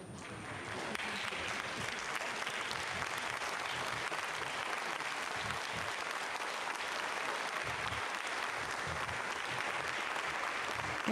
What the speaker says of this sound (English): Getting some clapping here in the Mission Control Center.